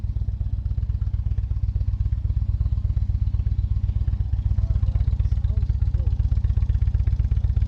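An Indian Chieftain Dark Horse motorcycle engine runs with a steady, rapid low-pitched thumping pulse, loud and close throughout.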